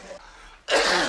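A single loud, close sneeze bursts out after a brief quiet intake of breath.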